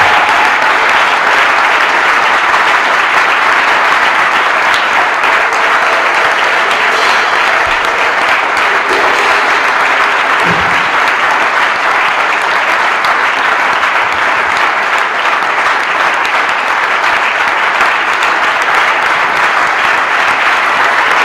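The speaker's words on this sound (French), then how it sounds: "nous allons offrir des acclamations" Sustained, loud applause from a large church audience, a dense, even roar of many clapping hands lasting over twenty seconds with no break, with scattered voices faintly mixed in.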